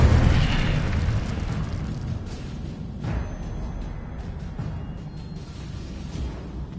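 A fire spell cast in the Hogwarts Legacy video game on PS4 erupts as a loud, booming burst that fades into a crackling roar, with a second softer whoosh partway through and no talking.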